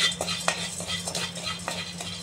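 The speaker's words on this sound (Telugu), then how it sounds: "ఇప్పుడు ఈ కల్లుప్పుని వేసి వేయించుతా ఉన్నాను" Rock salt dry-roasting in a hot pan while being stirred, giving irregular scraping and gritty clinks of crystals against the metal over a low steady hum.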